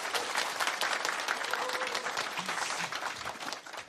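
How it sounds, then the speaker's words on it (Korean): At a live book-festival podcast recording, an audience welcoming an author gives continuous, evenly textured applause of many hands, soft and slightly distant, with no talking over it. "여러분 큰 박수 부탁드립니다"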